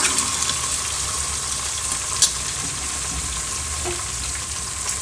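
Vegetables sauté in a pan for veg biryani, a steady, fairly loud broadband sizzle that holds evenly throughout with one brief clink, and no voices.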